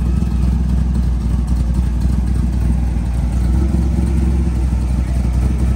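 Restomod 1963 Chevrolet Impala engine running loud and close, a dense continuous low rumble with slight throttle surges and a rough, clattering edge, heard alone without speech.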